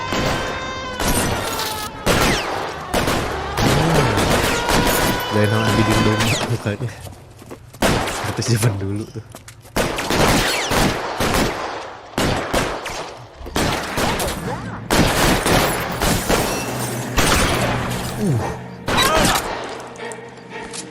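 A gunfire shootout in the video game L.A. Noire, with dense bursts of rapid shots and heavy bangs through most of the stretch, close and loud, while people talk over the action.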